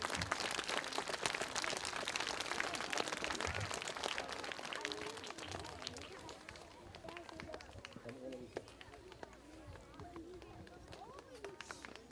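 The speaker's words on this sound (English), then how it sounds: "So let's give our Kurtz team a big round of applause" Audience applause for a community team at a veterans' event, a dense crowd clapping that fills the space, fading gradually toward the end as voices start to come through.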